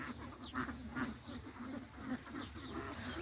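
Several ducks quack in a busy, overlapping chorus, with repeated short calls throughout and steady background noise.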